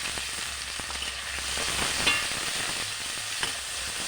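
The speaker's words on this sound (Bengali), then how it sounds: "দেখুন বন্ধুরা, পেঁয়াজটা ভালো করে ভেজে নিচ্ছি।" Chopped onion and green chili frying in hot oil, a dense continuous sizzle close up, with faint stirring clicks now and then and no talking.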